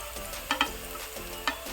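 Soft, steady sizzle of beans and cabbage going into a hot pan for egg fried rice, broken by a few brief scrapes and taps of a spoon stirring.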